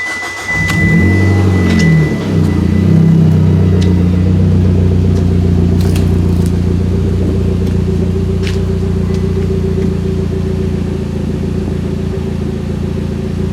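A 2009 Mitsubishi Lancer Ralliart engine with an aftermarket eBay exhaust cranks and catches in a garage, revving up with a deep rumble before settling into a steady, throaty idle, loud and close.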